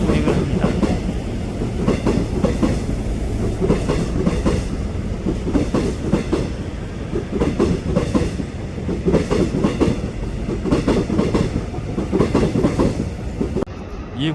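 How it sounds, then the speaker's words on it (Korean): Seoul subway Line 1 train running on its tracks, with steady rumbling and rhythmic clickety-clack of wheels over rail joints, loud and close throughout, with no talking. "서울 지하철 1호선은 열차가 2개의 선로 중에서 좌측 통행을 합니다."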